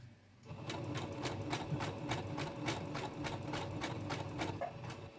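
Sewing machine stitching fabric for a dog coat, a steady rapid needle clatter running continuously after a brief quiet start, close and alone.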